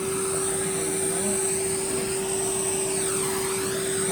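A Hoover Junior U1012 upright vacuum cleaner running, a loud, steady motor drone with a high whine that holds constant throughout, with a brief pitch sweep midway.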